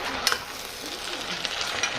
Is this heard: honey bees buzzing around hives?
no